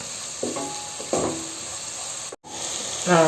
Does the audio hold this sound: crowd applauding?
no